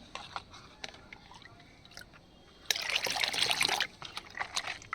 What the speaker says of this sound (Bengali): এবার এই জলটাই আমি প্রত্যেকটা গাছের গোড়ায় দিই।